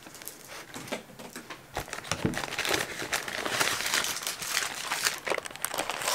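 Plastic wrapping on a Baun-Kuchen package crinkles and crackles continuously up close as it is torn open and unwrapped, with busy rustling bursts throughout and no talking.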